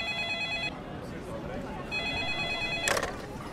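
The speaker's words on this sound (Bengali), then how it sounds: "এরই মাঝে ঝা ঝা শব্দে বেজে উঠল ফোন।" A telephone rings in repeated electronic trills with a pause between bursts, close and clear, with a short rustling clatter near the end.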